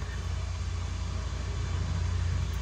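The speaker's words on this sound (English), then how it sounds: "Did you hear the static come in when I unplugged that?" FM radio static from a Bluetooth speaker inside a classic car after its line-in cable is unplugged: a steady, even hiss with a low rumble underneath, continuous throughout.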